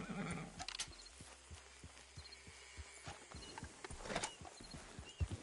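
A horse in the video game Red Dead Redemption 2 whinnies and snorts while its hooves clop in an even, close rhythm, fairly quiet and with no speech.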